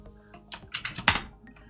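Computer keyboard typing while entering JavaScript code for a Node.js date method, a short cluster of several close key clicks and taps at moderate level.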